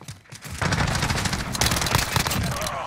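A grenade blast and rapid bursts of gunfire in Call of Duty: Modern Warfare multiplayer make a loud, dense, continuous barrage of crackling shots and booms.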